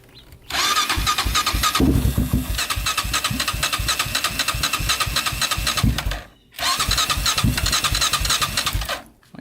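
A Honda 400ex quad engine cranks and catches, running with a loud, rough, knocking idle that briefly dies around six seconds in, then restarts and runs again, close by.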